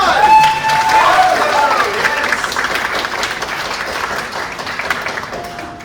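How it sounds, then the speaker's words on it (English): A theatre audience at a fringe festival stage play claps together, loudest at the start and then thinning out, with actors' voices and a few calls heard over the clapping. "Clap for her!"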